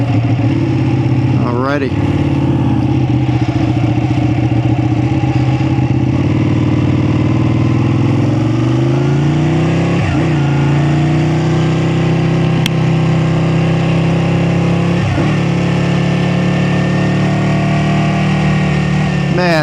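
Ducati 899 Panigale V-twin engine running steadily, up close and loud, with pitch rises and drops as it revs, while someone talks briefly over it.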